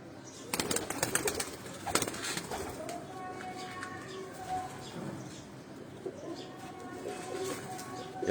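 Large, long-bodied Sialkoti breed pigeons coo at a breeder's loft in Pindi, soft repeated calls close by over a bed of bird chatter, with a few sharp clatters early on.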